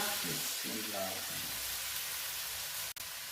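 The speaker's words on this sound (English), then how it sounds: "I'm going to add 1 tablespoon of vinegar" Chicken fried rice sizzles steadily in a hot pan as a tablespoon of vinegar goes in, a continuous bright hiss filling the clip, with a brief voice near the start.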